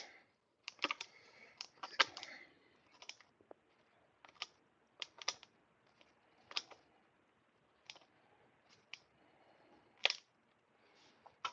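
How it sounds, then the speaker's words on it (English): Cooking scissors snip through leftover food in crisp, separate clicks and cuts, close and fairly quiet, spaced irregularly with short pauses between snips. "Take these scissors. These are my cooking scissors. Slice all this up."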